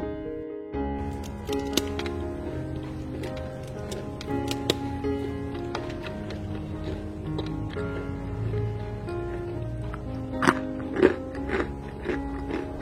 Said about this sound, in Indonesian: Renyah dan kriuk-kriuk ya.